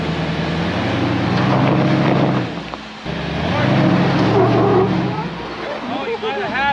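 An off-road recovery vehicle's engine surges under throttle, rising and falling in a couple of revving swells with wind buffeting the microphone, while people talk nearby.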